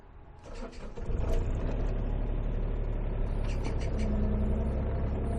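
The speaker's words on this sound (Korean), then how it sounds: "자, 장비 시운전 한번 해보겠습니다." A 3-ton used mini excavator engine cranks and catches about a second in, then settles into a steady, loud diesel idle with no one talking.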